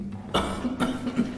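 A man coughs outdoors on a street in Halle-Neustadt, a few rough close coughs in quick succession over a low background hum.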